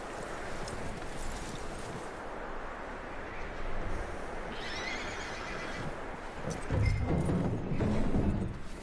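A horse neighs and whinnies amid hoof clip-clops and ambient game sounds, with a louder burst of movement near the end.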